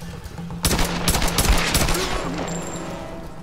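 Enemy gunfire in the action game Tomb Raider (2013), several loud overlapping automatic bursts erupting after a brief lull, then fading into echo.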